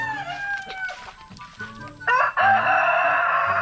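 Rhode Island Red chickens on a farm, with a rooster crowing loudly and hens clucking in the background, the calls overlapping and growing louder toward the end.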